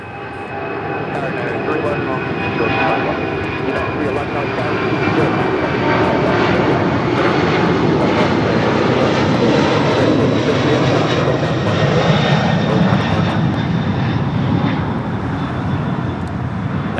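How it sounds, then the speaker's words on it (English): Boeing 767 jet rolling down the runway at Los Angeles International Airport, a loud, steady engine roar that builds and holds throughout, with no talk over it. "We have a 767 now rolling."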